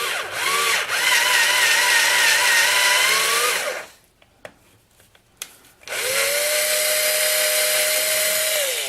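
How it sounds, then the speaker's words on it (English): A light-duty cordless drill power-tapping threads into metal whines steadily at high speed, pauses for a few seconds of light clicks and taps, then spins up again with a steady whir. "I'm power tapping them with a light duty"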